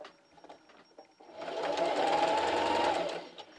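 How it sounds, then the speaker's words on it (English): A sewing machine runs a straight stitch on a thin piece of leader fabric, starting after a moment of quiet handling noise and whirring steadily for about two seconds before slowing to a stop, close up. "so I'm over here at the sewing machine. Today I'll be using a straight stitch"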